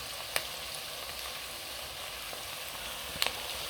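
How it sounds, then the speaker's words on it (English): Onions sizzle and fry in a pan for beef pilau, a steady crackling hiss throughout with a couple of faint clicks of stirring, no talking. "I'm still cooking the onions."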